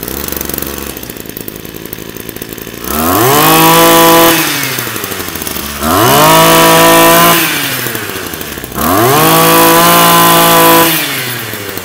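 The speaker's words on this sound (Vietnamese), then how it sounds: "em giật nổ các bác nghe thử mã số con J11 nòng 34 ly" Japanese two-stroke brush cutter, model J11 with a 34 mm bore, starts by pull cord and runs loud and close, revving hard in three long surges that each drop back to a rough idle.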